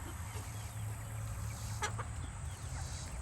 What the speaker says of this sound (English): It's my cream leg bar rooster.